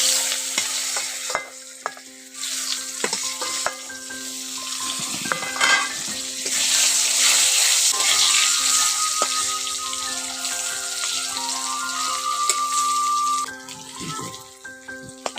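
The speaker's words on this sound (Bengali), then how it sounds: "ওই তেলের মধ্যে আলুগুলো ভেজে নিচ্ছি" Potatoes fry in hot oil in a pan with a steady, close sizzling hiss and occasional stirring scrapes. The frying runs continuously under faint tonal background music.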